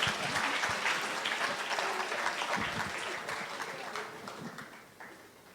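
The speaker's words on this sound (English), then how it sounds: "Let's give him another round of applause." An audience at an investor education event applauds after a speech. The clapping is dense and sustained, with voices mixed in, and it fades toward the end.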